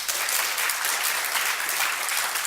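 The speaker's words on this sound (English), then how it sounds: "Give him a round of applause." Audience applause for a volunteer at a talk, a continuous, even crowd clapping that stays loud and full from start to finish.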